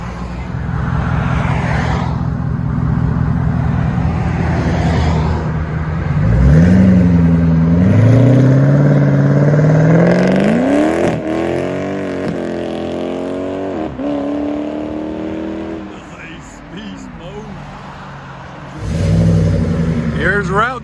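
Ford Mustang GT California Special with a 4.6L V8 and aftermarket exhaust, revving up and down close by, with rising and falling deep engine tones, a strong climb in the middle and a throttle blip at the end.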